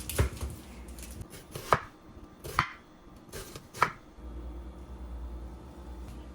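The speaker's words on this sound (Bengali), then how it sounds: "আর পেঁয়াজটা হতে হবে একদম কুচি কুচি" An onion is chopped fine for a hilsa fish dish, heard as a handful of widely spaced, firm knife thuds on a board against a low background rumble, close and unaccompanied by speech.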